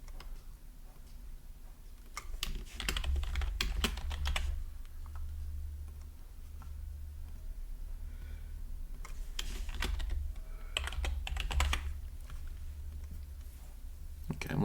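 Bursts of clicking keystrokes on a computer keyboard come in clusters separated by pauses, heard close over a steady low hum.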